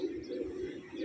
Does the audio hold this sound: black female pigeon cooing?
yes